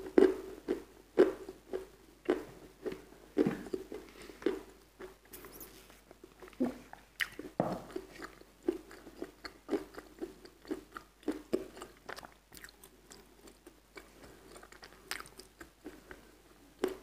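Close, quiet bites and chewing of something crunchy with a dull, slightly sticky crunch, heard as a steady series of small crackles and clicks throughout, with no talking.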